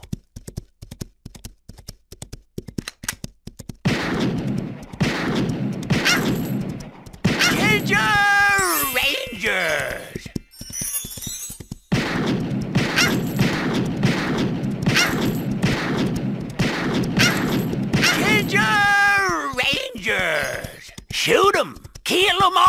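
Gunfire in the Android action game Ginger Rangers, rapid crackling shots in dense bursts mixed with game music and effects, with an excited voice talking over parts of it.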